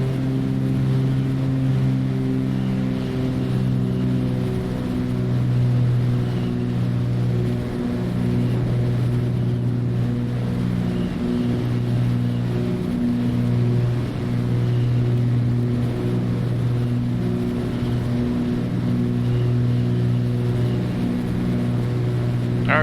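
A Cessna 310R twin-engine aircraft in Microsoft Flight Simulator holds climb power at 24.5 inches and 2500 RPM, producing a loud, steady, droning engine hum with layered harmonic tones that stays constant throughout, with no talking.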